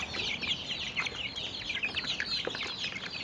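Chickens cluck and chirp busily while pecking at feed mixed with chicken tea, a dense flock close by with overlapping soft calls and no voices.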